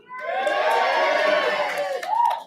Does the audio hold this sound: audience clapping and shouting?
yes